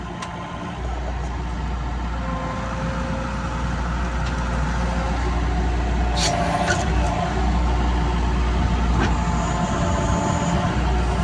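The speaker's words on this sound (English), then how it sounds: "I can operate the skid loader and be more efficient" Skid loader engine running steadily while loading cherry logs at a yard waste site, a continuous low rumble close by with occasional clanks and knocks over it.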